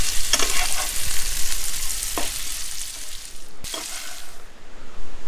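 Paneer sizzling steadily in a pan on a gas stove at a camp, with a few soft stirring scrapes over the continuous frying hiss, close and fairly loud.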